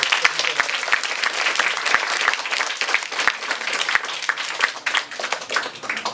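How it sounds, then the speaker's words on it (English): A seated audience applauds panelists at the close of a storytelling discussion event, a full round of many hands clapping at fairly close range, with a few louder individual claps and some faint voices mixed in. "I just wanna give a round of applause again to our panelists."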